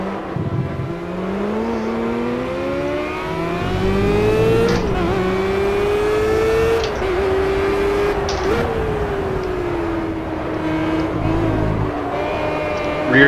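A race car engine from the Project CARS racing game drones loudly and continuously, its pitch climbing and dropping with gear shifts and throttle changes, with no talking over it.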